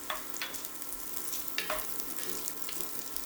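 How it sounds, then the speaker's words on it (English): Chopped onion with ginger and garlic sizzles in hot olive oil in a pan, a steady crackling fry broken by a few quick scraping stirs, close and fairly quiet, with no one speaking. "we're gonna cook our chopped onion"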